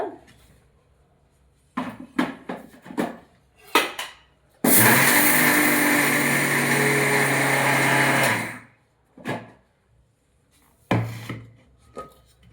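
A kitchen mixer grinder coarsely grinding sesame seeds runs in one loud, steady whir lasting a few seconds, framed by brief clunks and handling knocks before and after.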